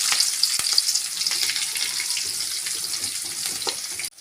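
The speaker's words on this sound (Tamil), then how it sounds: "வெங்காயம் நல்லா வதங்கி வரட்டும்" Chopped onion and two green chillies frying in hot oil with cumin seeds, a loud, steady, close hiss of sizzling with a few light stirring knocks, ending abruptly.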